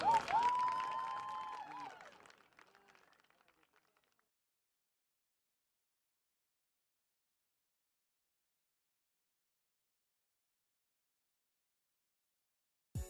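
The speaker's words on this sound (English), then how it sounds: "let's have another nice round of applause for the Moorhead Spuds Fall Dance Team" A crowd at a boys' soccer game applauds and cheers for a dance team, loud at first, then the clapping fades away into silence within a few seconds.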